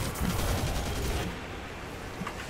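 Sniper and other gunfire crackle in Destiny 2 during a Nightfall mission, a brief flurry of rapid shots and impacts that fades after about a second into a quieter, noisy background.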